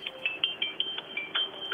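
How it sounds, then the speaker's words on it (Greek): A phone rings faintly during a Skype call, a string of short high electronic chirps repeating in a quick, uneven pattern over a quiet background. "Σας καλούνε στο τηλέφωνο και έχουμε μια διακοπή του Skype."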